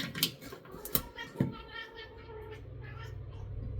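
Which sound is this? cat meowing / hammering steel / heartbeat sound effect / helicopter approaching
cat meowing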